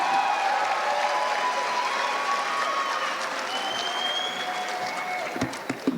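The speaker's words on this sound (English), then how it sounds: "Let's give him another round of applause for those big nuggets." A graduation crowd at a winter ceremony breaks into a thick, continuous roar of applause mixed with whistles and cheering, sustained and loud throughout with a few sharp claps near the end.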